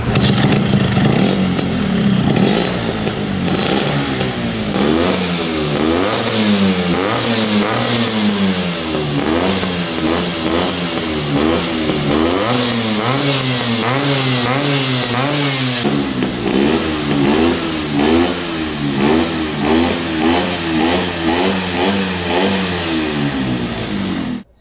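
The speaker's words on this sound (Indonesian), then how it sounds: "Gua nyalain nih motor ya" A 1966 Vespa Super with a two-stroke engine, fully restored, revs loudly and continuously close by, its throttle rising and falling in quick repeated surges with a rattly buzzing tone throughout.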